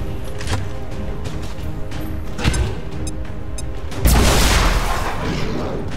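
A frag grenade explosion in the video game XCOM 2, a loud booming blast that erupts over steady game ambience and leaves a crackling, rumbling tail.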